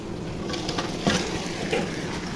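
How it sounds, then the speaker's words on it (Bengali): Chicken pieces added to a pan of lightly fried onions, giving a close, steady sizzle and hiss with a few brief louder bursts as the meat hits the hot oil. "এখন আমি মাংসগুলো ছেড়ে দিব"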